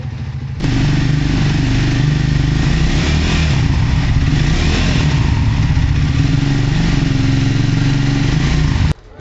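A new motorcycle with its original stock exhaust runs loud and close, holding a deep, booming, steady engine note for several seconds before cutting off abruptly near the end.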